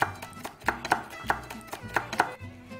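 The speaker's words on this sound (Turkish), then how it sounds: "şöyle biberlerimizi de doğruyoruz" Peppers being chopped with a knife on a board, a steady series of crisp, close knock-and-slice strikes in an uneven rhythm, with no talking.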